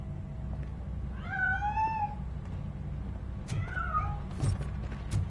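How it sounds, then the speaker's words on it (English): A cat in the RoboCop video game gives two drawn-out meows, the first near the middle and a shorter one later, over a steady low rumble of in-game ambience, with a few sharp clicks near the end. "That cat must be hiding inside."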